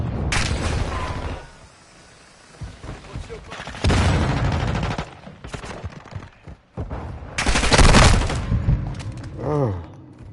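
Bursts of automatic gunfire and booming explosions from a Modern Warfare 2 multiplayer match, loud and close, coming in several heavy volleys separated by quieter gaps.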